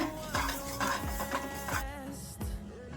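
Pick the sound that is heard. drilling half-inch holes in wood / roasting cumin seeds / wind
roasting cumin seeds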